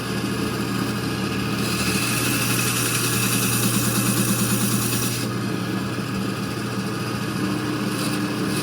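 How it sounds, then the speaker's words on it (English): A Gryphon E14 band saw runs with a steady motor hum while the blade rasps through a workpiece, the cutting growing louder in the middle and then easing off. "That's how easy it is to do the bandsaw."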